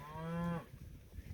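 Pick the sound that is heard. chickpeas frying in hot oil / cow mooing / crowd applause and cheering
cow mooing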